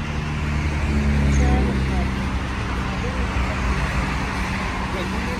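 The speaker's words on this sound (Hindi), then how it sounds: "तो हम लोग मिड हाईवे में हैं" Highway traffic roars from inside a fast-moving car, a dense steady rumble of engine and road noise with low tones, loud and unbroken throughout.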